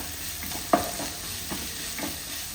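Small potato pieces with onion sautéing in a pan, a soft steady sizzle broken by a few distinct scrapes and clinks of a spoon stirring, quiet and close, with no talking.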